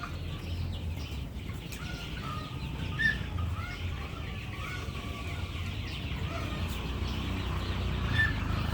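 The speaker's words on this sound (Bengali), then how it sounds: "এটা সোনালী মুরগি" Sonali chickens inside a coop give scattered soft clucks and brief calls over a constant low hum, fairly close but not loud.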